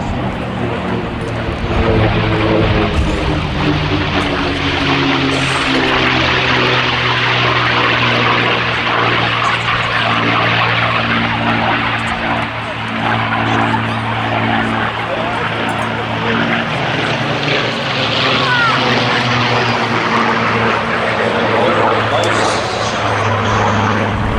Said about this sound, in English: from your right, the Mustang, followed by the Spitfire, the Rolls-Royce Heritage Flight